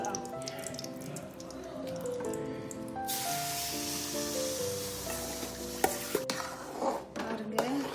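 Gongura leaves dropped into hot oil for a pickle, a bright hissing sizzle that swells suddenly and then settles into steady frying with a few stirring clicks, close up, over faint background music.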